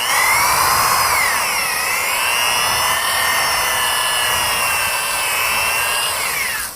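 A drill-driven dingle ball hone spins inside an engine cylinder of a Willys, giving a steady high whirring grind with shifting pitch, loud and close throughout with no talk.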